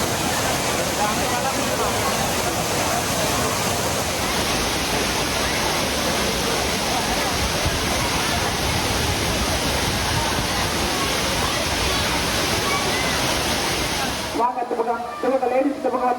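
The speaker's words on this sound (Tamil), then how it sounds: "தென்காசி குற்றாலம் 5 அருவிகளில் தண்ணீர் ஆர்ப்பரித்து கொட்டுகிறது" Water roaring down the Courtallam waterfalls in Tenkasi, a loud, dense, continuous rushing roar that cuts off abruptly near the end.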